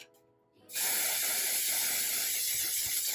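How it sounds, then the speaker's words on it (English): After a brief quiet moment, a hairspray can hisses loudly and continuously from close by onto a lace wig until the end. "we're gonna lock it in with some of the Fix It spray"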